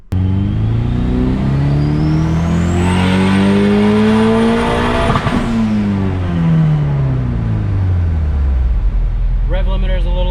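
Turbocharged H22 Honda Prelude engine on a dyno, loud and close, climbing in pitch through a full-throttle pull with turbo whine, hitting the top, then falling back down as the revs drop, with a brief chatter at the end.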